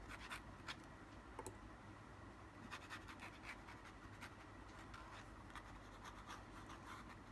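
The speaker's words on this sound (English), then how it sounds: "So this noise is very common when you're using like a nib pen." A nib pen scratches across paper with Cretacolour black calligraphy ink, giving a faint, close, dry scratching with small repeated stroke ticks throughout.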